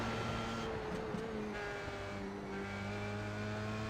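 An F3 race car in a sim racing game, run on the Road Atlanta circuit, holds its engine at high revs in a steady, fairly quiet tonal whine with small shifts in pitch and a faint hint of tire noise.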